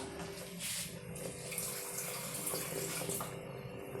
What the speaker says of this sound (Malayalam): ഇത് കഴുകി വെള്ളം എടുക്കാം